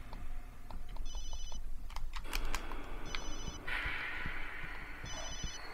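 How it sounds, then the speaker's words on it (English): A cell phone rings three times in the survival horror game Obscure, a bright electronic trill repeating at even intervals over a dense background of ambient game noise and clatter. "I should have turned off my cell phone."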